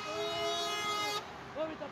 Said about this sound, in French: t'as vu le klaxon quand même de l'autre